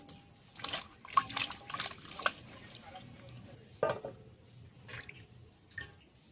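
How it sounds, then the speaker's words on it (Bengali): Potatoes being washed by hand in a basin of water, with soft sloshes, drips and splashes coming in scattered bursts close by, fairly faint, with no speech. "প্রথমে আলুটা ধুয়ে নিচ্ছি।"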